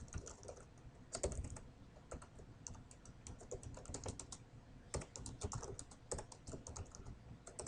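Computer keyboard typing as code is entered, a quiet steady patter of keystrokes in uneven bursts with no talking.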